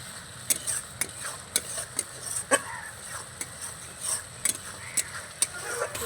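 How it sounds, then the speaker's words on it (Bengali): Salted spice paste stirred and fried in a pan for an okra curry, quiet frying with a series of sharp, evenly spaced scraping clicks from the spatula. "এবার আমি ভালো করে মশলাটা কষিয়ে নেব।"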